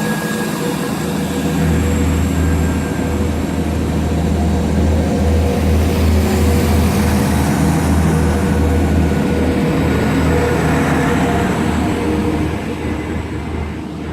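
A Class 175 diesel train departing Deansgate station: a loud, continuous low engine rumble with rail hum builds and holds close by throughout, with no talking.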